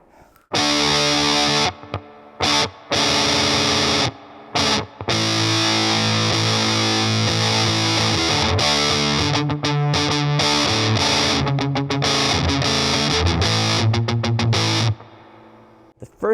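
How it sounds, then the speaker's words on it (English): A Gibson SG Standard electric guitar on its bridge pickup through a heavily saturated fuzz plays loud, thick sustained chords and riffs, broken by brief pauses and ending in a quick cutoff. "So this is just your bridge position with some gain."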